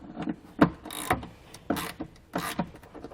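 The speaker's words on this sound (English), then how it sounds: "We're going to use the T27, just like we did before, to loosen this up and remove this." Several short mechanical clicks and ratcheting turns as a T27 Torx driver loosens and removes a D-ring bolt, close and intermittent in a quiet space.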